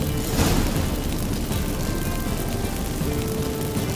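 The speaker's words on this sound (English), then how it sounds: "Get ready for some magic fireworks." A magic fireworks blast in The Witcher 3 erupts with a loud boom near the start, then gives way to a dense, sustained rumbling roar that fills the rest of the clip.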